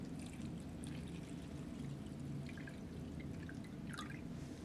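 Water poured into a cup while preparing a 2014 Australian MRE lamb vindaloo meal, a steady low splashing pour running throughout with faint higher trickles and drips on top.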